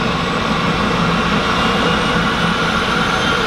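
A floatplane engine runs loud and steady at Vancouver's downtown harbour airport, a continuous close roar with a droning hum and no voices.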